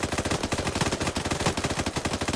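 Machine gun suppressing fire in a military shooter game rattles in a rapid, continuous burst, loud and dense, with rhythmic pulsing shots throughout.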